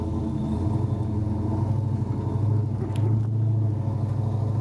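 LS-swapped 1963 Chevy Nova wagon heard from inside the cabin, a steady low engine drone and road rumble that swells slightly as it pulls, with a brief sharper transient mid-way; no one speaks.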